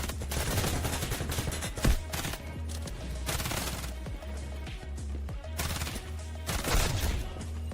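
Gunfire in the shooter game Delta Force, with dense bursts of rapid shots and heavier blasts repeating across the whole stretch, loud and close, with a few sharp impacts standing out and no talk.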